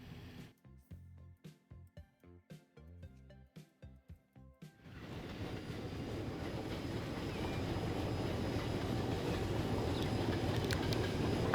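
Diesel trains in the rail simulation game Transport Fever 2: a rhythmic clatter of wheels over rail joints gives way to a steady, rising engine and rolling rumble that swells and holds.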